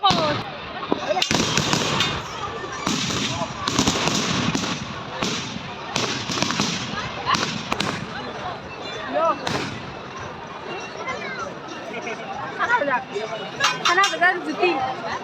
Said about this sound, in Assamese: বোমা মাৰা চাই আছো